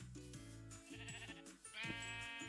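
Sheep in Minecraft bleat repeatedly, a series of short wavering cries in quick succession, clear and fairly close, with no talk over them.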